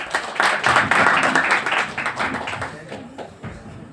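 Audience applause at an open mic event in Ahmedabad, with dense, close clapping from a small crowd that gradually thins and fades out over a few seconds.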